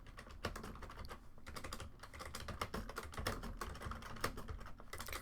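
Rapid, uneven clicking of keys on a computer keyboard during coding, bursts of close keystrokes with brief pauses and no speech.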